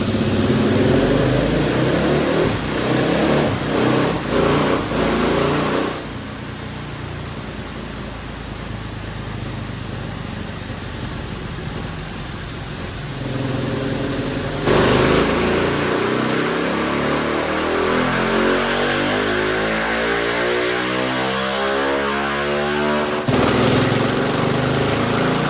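A stock 2023 GasGas SM 700 motorcycle engine revs hard on a dyno, rising through repeated loud runs with sweeping pitch climbs, brief drops to idle, and no talking.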